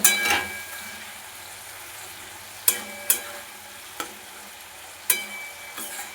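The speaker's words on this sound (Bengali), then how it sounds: "এর মধ্যে দিয়ে দেবো একটা বড় সাইজের টমেটো আরও একটু জল দিয়ে মশলাটা খুব ভালোভাবে কষিয়ে নেব" Mutton masala sautéing in a pan with tomato and a splash of water, a steady soft sizzle broken by a few sharp spoon knocks against the pot.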